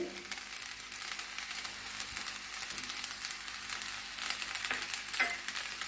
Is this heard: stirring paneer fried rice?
yes